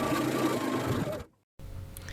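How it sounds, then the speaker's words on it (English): Sewing machine running steadily as it stitches a quarter-inch seam around the edge of a quilted maple leaf fall pillow with batting and backing, a continuous close whir that stops abruptly for a moment before resuming. "All we're going to do is sew 1/4 of an inch around the entire outside edge."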